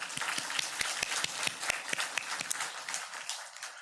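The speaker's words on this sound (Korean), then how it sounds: "우리 하나님께 영광의 박수 한번 드리겠습니다" Congregation applauding during a church service, a steady crowd of clapping with sharp individual claps standing out in a loose rhythm, tapering slightly toward the end.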